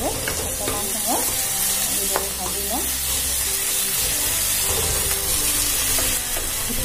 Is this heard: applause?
no